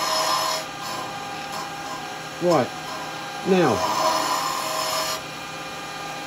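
A wooden baby rattle spins on a woodturning lathe while a carbide tool cuts into it to hollow it, two short scraping bursts over a steady lathe hum, with brief speech.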